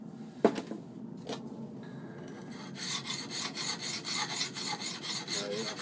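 A hand-forged Viking-style knife blade is scraped dry across a sharpening stone with no cutting oil, a couple of sharp rasps at first and then a steady, close, gritty back-and-forth rubbing with no talk.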